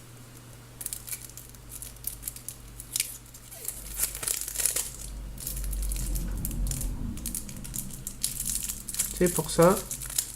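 Plastic and cardboard packaging of a Yu-Gi-Oh card deck crinkles and tears open close by, with rustling bursts building in the middle and a sharp rip near the end, while a person speaks briefly.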